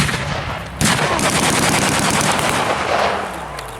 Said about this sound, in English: And they're going to be firing.